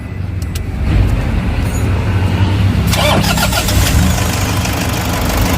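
A Toyota Hi-Ace Commuter van engine cranks and catches about a second in, then settles into a loud, steady idle with a brief rattling clatter partway through.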